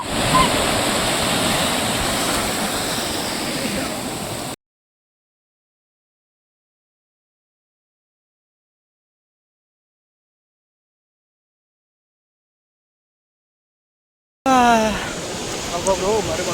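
Ocean surf rushes and roars at Ramapuram Beach, a loud, continuous wash of waves that cuts off abruptly, followed by a long silence before the surf returns briefly at the end.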